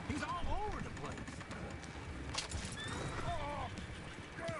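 Horses in Red Dead Redemption 2 whinny repeatedly over the thud and clatter of galloping hooves, several neighs rising and falling through a busy, steady game soundscape.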